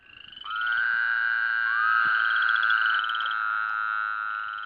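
A Woodhouse's toad gives a long, loud, nasal trilling call lasting several seconds, close by, with no other sounds around it.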